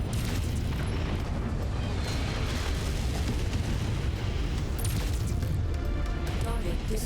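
Explosions in the game MechWarrior 5 as a target is destroyed, a dense, continuous roar of blasts and rumbling impacts sustained at high level throughout.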